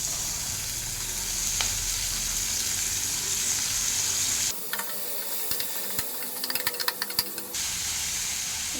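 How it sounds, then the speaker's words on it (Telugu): Cut cluster beans frying in oil with turmeric, a steady hiss and sizzle with stirring clatter, briefly dropping lower midway as utensils scrape and knock in the pan. "ఇప్పుడు ఇందులోనే కట్ చేసి పెట్టుకున్న గోరుచిక్కుడుకాయ వేసుకోవాలి"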